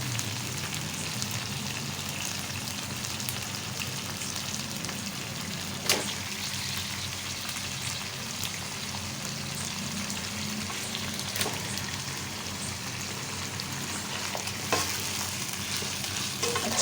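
Chicken frying with green chilli paste in a pan for a BBQ chicken tikka biryani: a steady, dense sizzle runs throughout, with a few sharp utensil clicks breaking through.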